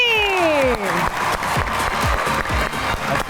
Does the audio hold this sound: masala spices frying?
no